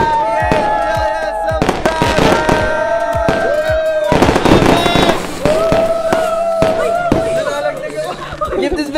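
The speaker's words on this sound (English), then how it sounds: "we're gonna fire up some fireworks, even though it's not real" Fireworks sound effect: repeated sharp cracks and bangs with crackling bursts and whistling rises, loud and dense across the whole stretch, with crowd chatter underneath.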